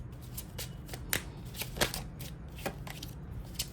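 Playing cards are shuffled and laid down in quick, crisp riffles and flicks, close and fairly quiet, with a few sharper slaps as cards land.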